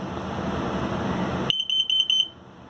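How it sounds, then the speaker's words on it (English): A carbon monoxide and LP gas detector in a 2020 Autumn Ridge 19BH travel trailer runs its self-test, giving a short series of shrill, rapid electronic alarm beeps close by after a burst of broadband noise cuts off. "This is the carbon monoxide and LP gas detector here. It should always be green, like it is. I can self-test it here."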